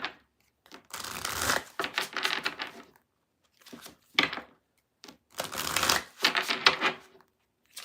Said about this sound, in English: As I shuffle